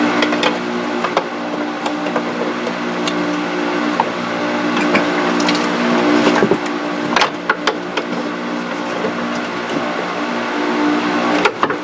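Metal parts of a Polaris Sportsman ATV clunk and rattle as a drive shaft is wiggled and worked loose, with irregular close knocks and scrapes over a steady background hum.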